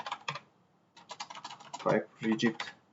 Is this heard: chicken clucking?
no